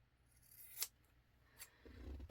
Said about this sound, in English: I normally use scissors to cut my corners back.